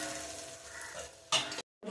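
Whole prawns seasoned with salt and turmeric sizzle and crackle steadily in hot oil, with a brief louder stir or scrape near the end and a short drop to silence before the frying noise returns.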